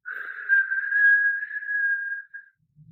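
A single steady whistled tone holds for about two seconds before trailing off into silence, quiet and alone, a human whistle imitating wind whistling.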